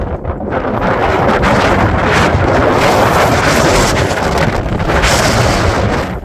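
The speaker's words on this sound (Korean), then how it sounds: "와 바람 장난 아니네" Strong wind buffets the microphone on a hillside golf course, a loud, continuous roaring rumble that swells and surges without a break, with no voices.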